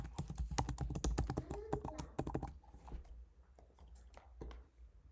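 Taps on an iPhone touchscreen keyboard entering an iCloud password, a quick run of close, light clicks for about two seconds, then a few scattered taps trailing off into quiet.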